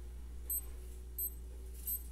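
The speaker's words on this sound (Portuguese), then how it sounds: "Agora tá funcionando o bip." A small electronic Aqua GP519 wristwatch beeps three times after a battery change, thin and high-pitched, evenly spaced and close by, over a low steady hum.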